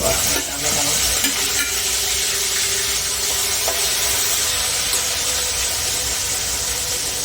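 Tomatoes drop into a hot tempering of green chilies and curry leaves and set off a steady, loud sizzle with faint scraping, continuous for several seconds without talk.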